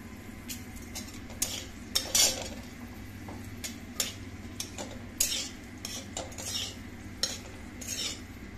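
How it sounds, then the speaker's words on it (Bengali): Black cumin, dried chilli and sugar fry in a pan for an aubergine mash while a utensil stirs them, giving intermittent metallic scrapes and clinks over a faint, low sizzle, close and fairly quiet. "কালো জিরে, শুকনো লঙ্কা, চিনি ভাজা হয়ে গেছে।"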